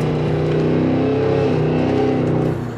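A supercharged Cadillac Escalade-V engine accelerating, a loud, dense, steady roar heard from inside the cabin that holds for a few seconds before easing off at the end.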